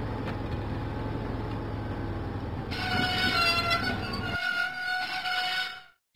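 A diesel engine rolls along the track in a Thomas and Friends video game, a steady rumbling train sound that brightens with a whining, squealing tone partway through, then fades out at the end.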